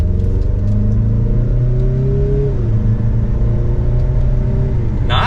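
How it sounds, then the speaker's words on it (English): A 2023 Mazda CX-50 Turbo Premium Plus with a six-speed transmission accelerates in sport mode from second gear, its engine droning loudly and climbing steadily in pitch, heard from inside the cabin. "Let's give it some gas."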